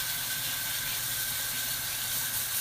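Warm tap water runs steadily over a makeup brush being rinsed of soap, a continuous, even hiss with no breaks and no voices.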